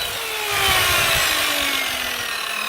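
A cheap handsaw cuts through a 150mm-wide wooden decking board outdoors, producing a loud, continuous rasping grind with rapid back-and-forth strokes, close up and alone.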